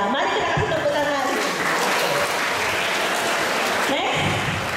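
An audience at a library event breaks into loud applause mixed with cheerful voices and light laughter. The clapping runs continuously throughout, with speech layered over the crowd noise.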